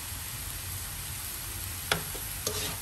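Fried quinoa with cauliflower and carrots being turned over in a hot pan under a steady low sizzle, with a couple of short scraping strokes near the end; no talking.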